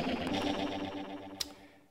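A minijam tek.waves prototype synth holds a sustained buzzy tone while its filter is swept and distortion overdrive roughens it, with a brief click near the end.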